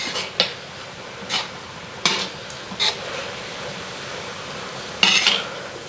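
A pot of coconut, turmeric and salt being stirred, giving several sharp metallic clinks and scrapes of a spoon against the pot, sparse and close, with quiet gaps between.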